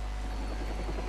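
Helicopter rotor drone from the Watch Dogs video game, a steady low whirring thrum running continuously and fairly loud with no voices over it.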